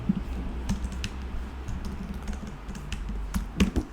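Code is typed on a computer keyboard in quick irregular bursts of close, crisp key clicks, with no voices.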